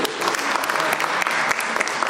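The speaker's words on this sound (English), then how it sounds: "Let's have the final clap for the panelists." Conference attendees at an agroecology event clap for a panel, a loud, dense burst of applause with sharp individual claps standing out, sustained throughout.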